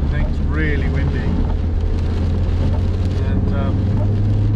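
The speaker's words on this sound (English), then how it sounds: "I think it's really windy." Strong wind buffets the microphone high on a rainy mountain, a steady low roar and rumble throughout, with a person talking faintly underneath.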